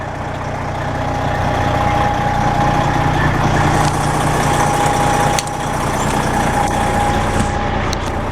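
The Detroit Diesel engine of a 1995 Simon fire truck idles steadily up close, a deep even rumble with a faint whine, broken by a brief clunk near the end.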